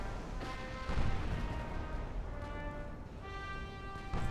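Cruisers firing their guns in the naval battle game Ultimate Admiral Dreadnoughts, a dense, rumbling layer of booms and distant gunfire rolling continuously, with a steady musical drone over it.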